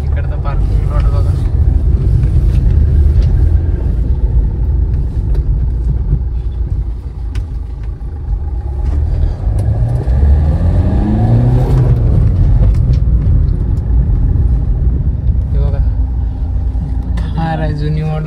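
An old-model Mahindra Thar's engine runs steadily and close in a parking lot, with a deep continuous rumble and a rising rev partway through, while someone speaks briefly over it.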